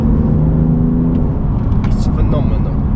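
A 510 bhp BMW M4 Competition accelerates on a wet road, its engine note rising as the revs build, heard loud from inside the car with a steady low road roar throughout.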